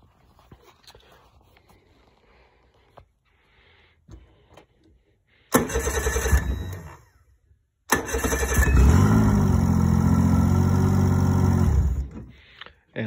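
A Mercury/Tohatsu 25-30 HP outboard motor with a fried ECM and aftermarket fuel pump cranks and catches, first a short loud burst, then after a pause a steady close running drone for several seconds before cutting off.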